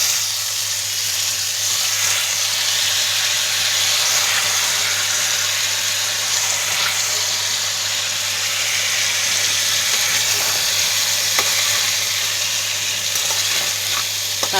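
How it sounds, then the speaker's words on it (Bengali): Green chili paste, ginger paste and chopped garlic with spices in mustard oil sizzle steadily in a pan as water is sprinkled in, a loud even frying hiss with a low hum underneath and faint stirring, no voices. "এটা একটু জল ছিটিয়ে ছিটিয়ে কষাবো"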